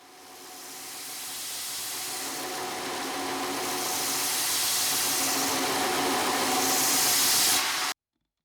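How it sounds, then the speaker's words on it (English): A belt grinder grinds aluminum with a broad, hissing rasp that builds gradually in loudness over several seconds, then stops abruptly into silence. "I'm going to take it over to the grinder"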